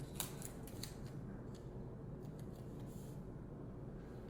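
Scissors snip a few times in a living room during a makeover, faint crisp cuts set over a steady low background hum, with no voices.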